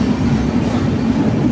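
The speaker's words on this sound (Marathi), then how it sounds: "आमची ट्रेन अशी चालली आहे, अशी." A passenger train runs through a tunnel, its loud, steady low rumble and wheel clatter filling the space continuously and close by.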